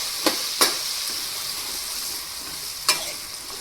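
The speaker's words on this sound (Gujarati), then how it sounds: "ત્યાર પછી આપણે જે ફ્લાવર સુધાર્યું છે તેને એડ કરી દઈશું અને વટાણા નાખી દઈશું. પછી તેને હલાવીને મિક્સ કરી લેશું." Cauliflower and peas frying in a pan, a faint steady sizzle broken by three sharp clinks of a spoon against the pan while stirring, no talking.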